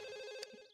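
A telephone rings in The Sims video game, a brief electronic tonal ring with a click partway through, clear and close.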